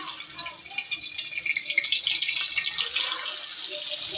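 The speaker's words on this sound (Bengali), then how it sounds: "তো তেলটা গরম হয়ে গেছে কড়ার মধ্যে, তো আগে মাথাটা দিয়ে দিলাম" A hilsa fish head goes into hot oil in a pan and fries, giving a loud, continuous hiss and crackle from close by, rising brighter toward the end.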